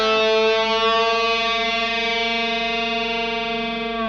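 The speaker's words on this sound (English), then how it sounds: "bring your 2nd and your 1st fingers onto the same string and pull the string down, and you're going to bend it a half step." Single sustained electric guitar note with distortion and effects, bent up a half step into pitch and held for about four seconds, loud and ringing alone.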